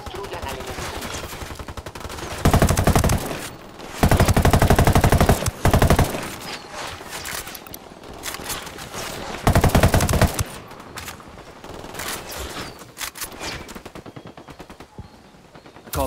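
Automatic rifle fire from Unidad troops shooting at cartel fighters in Ghost Recon Wildlands, loud sustained bursts recurring over several seconds, separated by quieter stretches of distant shots and battle noise.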